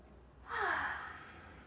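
A single deep breath drawn in during a yoga stretch, a soft airy inhale swelling for about half a second and then easing away, close and fairly quiet with no talk over it.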